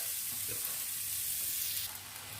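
Octopus and vegetables stir-fried in a hot pan for a spicy dish produce a dense, bright, continuous sizzle up close that eases slightly near the end.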